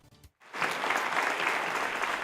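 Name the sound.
Syracuse community applauding physicist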